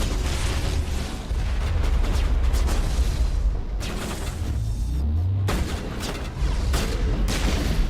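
A grenade goes off in the Mass Effect video game, part of a dense run of loud blasts and gunfire that rumbles throughout, with a few sharp bursts standing out near the middle.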